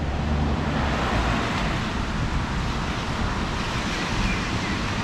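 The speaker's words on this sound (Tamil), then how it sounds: "அது பக்கத்தில் தண்ணி மாதிரி ஓடுது நினைக்கிறேன்." Continuous rushing noise of water flowing nearby, a steady broad wash with wind-like texture and no voices.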